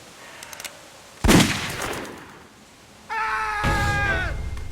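A single loud gunshot rings out in The Walking Dead Telltale game, a sharp close blast that decays over about a second, followed by a tonal cry and more noise.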